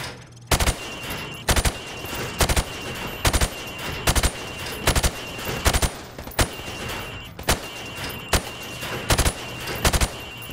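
Gunfire from Modern Warfare as targets are shot through wood. Loud, sharp bursts of two or three shots repeat at roughly even intervals over a steady background hum.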